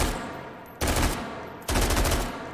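Two loud, close bursts of fully automatic fire from an AR18 rifle chambered in 5.56x45 NATO in the VR game H3VR, each a dense rapid stream of shots, the second longer and continuing to the end.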